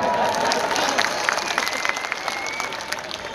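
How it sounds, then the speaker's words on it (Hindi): A crowd at an Urdu poetry mushaira claps and murmurs, applause rolling steadily with scattered louder claps while voices mingle underneath. "आप तालियां बजाएं"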